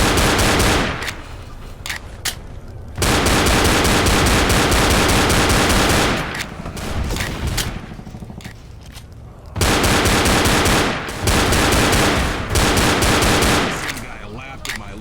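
Sustained machine-gun fire in Left 4 Dead, loud continuous bursts broken by brief lulls, dominating the mix and burying faint voices underneath.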